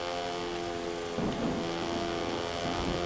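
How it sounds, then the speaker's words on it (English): Thunder rolls in over a steady bed of game engine and ambient noise during a wet lap at Silverstone in the motorcycle racing game MotoGP 19, a broad low rumble swelling up after about a second and lingering to the end. "So I just heard some thunder then in at Silverstone."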